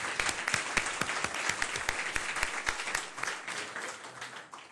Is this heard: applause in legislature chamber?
yes